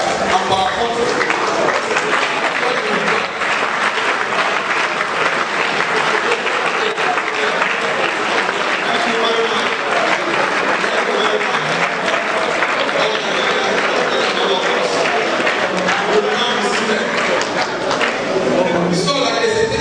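A standing audience at a Nigerian ministerial platform session claps for the president of Nigeria in loud, continuous applause that stays steady throughout with crowd noise mixed in.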